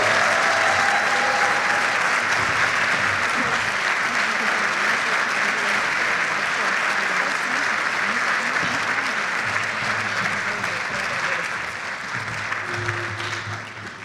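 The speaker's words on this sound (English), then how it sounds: "Let's give them another round of applause." An audience at a government institute graduation ceremony claps in steady, dense, sustained applause that fills the hall and tapers slightly near the end.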